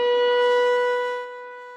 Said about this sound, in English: In Cass County, during severe weather, you used to hear sirens like this.